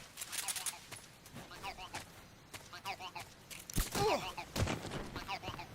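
Rapid shots fired at a tree in the video game Kero Blaster, faint, quick popping bursts repeating throughout under a speaking voice.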